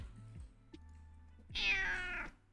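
A cat meows up close, one clear drawn-out meow after some low background hum and faint noises, with no talking.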